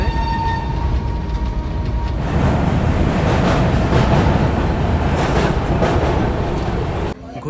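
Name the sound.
inside a crowded general-class train travelling to Prayagraj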